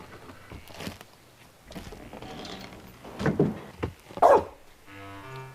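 Dogs barking in a Hindi film scene, a few sharp barks and yips scattered among other scene noise, growing louder toward the end and followed by a brief musical tone.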